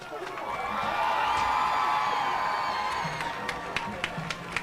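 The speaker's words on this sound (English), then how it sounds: "Please join me in one last round of applause for the class of 2025" A large crowd in the bleachers at a high school commencement cheers and claps as graduates throw their caps, forming a sustained, fairly distant roar with whoops that fades into a few sharp scattered claps toward the end.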